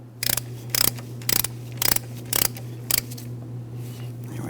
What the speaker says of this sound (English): I'm going to continue on with my ratchet.